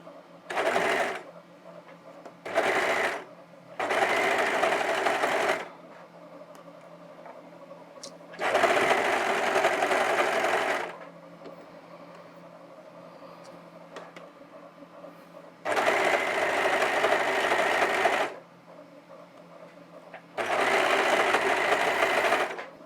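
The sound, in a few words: sewing machine stitching fabric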